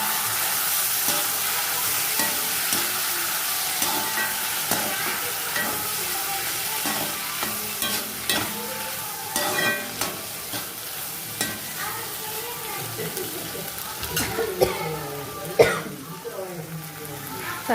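Vegetables and sundakkai (turkey berries) sizzle and crackle steadily in a hot pan for a kootu, with repeated scraping and clinking of a spoon stirring, growing busier toward the end.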